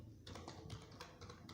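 Fingers typing a password on a computer keyboard, a quick run of soft, close key clicks at an uneven rhythm with no voices.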